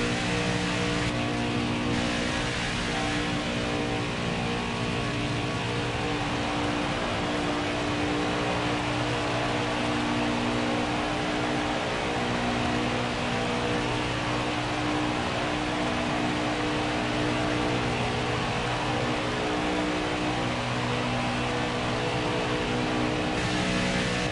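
NASCAR Craftsman Truck Series race trucks roar around the Talladega superspeedway in a continuous, loud, dense engine drone that holds steady without a break.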